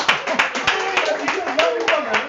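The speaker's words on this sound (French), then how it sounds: "Tizi, on applaudit pour elle." Small group at a training session claps for a team member, brief uneven hand claps under a person speaking.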